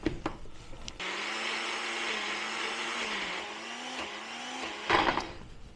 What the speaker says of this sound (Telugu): సో వాటర్ వేసుకునే గ్రైండ్ చేస్తాను.